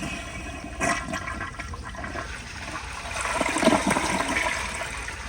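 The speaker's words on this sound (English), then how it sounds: "So here's another flush," A 2002 Kohler Santa Rosa Ingenium toilet flushes close up, a sharp start followed by rushing, swirling water that swells toward the end and then trickles, with faint rain in the background.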